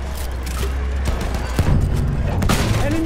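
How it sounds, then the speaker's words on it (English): Gunfire and booms in the Battlefield 1 video game: rapid overlapping shots, thuds and a louder burst, dense and continuous battle noise with no clear talk over it. "Enemy machine gun!"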